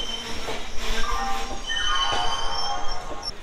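The 12311 Netaji Express from Howrah to Kalka pulls away from the platform: a loud, steady rolling rumble with high, thin wheel squeals rising and fading, and no talk.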